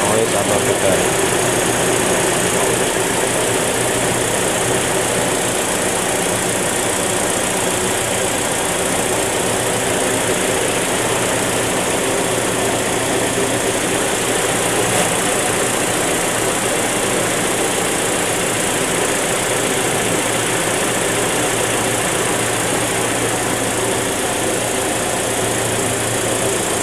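A used car's engine idles steadily at close range for the whole stretch, a constant low hum with an even mechanical buzz and no revving.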